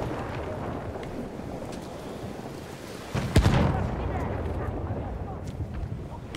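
A single sharp sniper rifle shot in Battlefield 1 cracks out partway through, standing clearly above a steady bed of wind and battlefield ambience.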